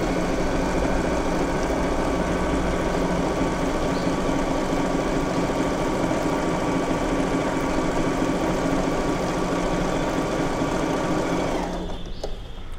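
An Usha Wonder Stitch sewing machine runs a heavy stitch in a steady, fast, continuous mechanical whir with no voices, then winds down near the end.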